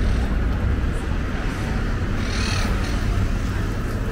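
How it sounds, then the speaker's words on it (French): Crows caw a few times at a distance over a dense, constant background roar outdoors. "C'est quoi ces oiseaux?"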